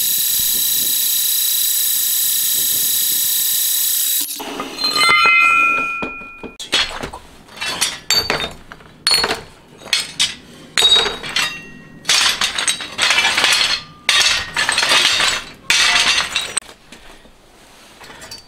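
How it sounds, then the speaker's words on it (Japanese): Metal stock for a new cylinder head on a Honda Monkey CD125 four-cylinder engine conversion is chopped into small pieces with a cutter and a hand-powered hacksaw. A steady machine whine gives way to irregular clanking, grinding bursts and sharp metallic clinks, close and loud. "クローナカッターだけではなく、ガチャノコも使用してなんとか細かくしていきます。"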